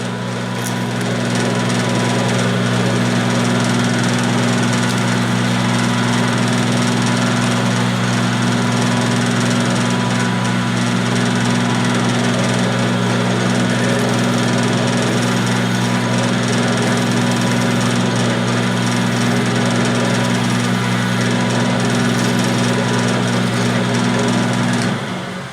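A steady mechanical whir of a drill press drilling a metal steam chest cover held in a vise, running continuously at a constant pitch, with no speech and no pauses.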